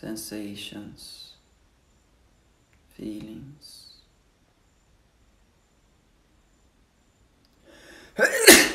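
A single sharp sneeze bursts out near the end of a quiet guided meditation. Before it, a calm voice speaks softly, with long silent pauses between phrases.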